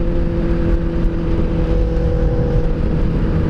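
A car engine drones loudly and close by, with a strong, steady harmonic growl held at high revs for the whole few seconds.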